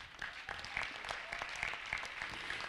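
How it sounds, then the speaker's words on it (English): Audience applause for a poet and spoken-word performer at a spiritual lecture event, a steady wash of many hands clapping, moderately distant and sustained throughout. "Please give him a round of applause."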